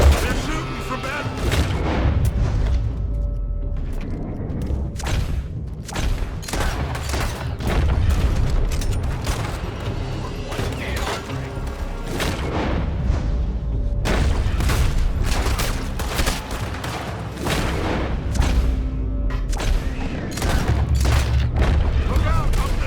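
Gunfire in Red Dead Redemption 2: dense, repeated booming shots and volleys crackle almost continuously, loud and close, with shouting voices mixed in throughout.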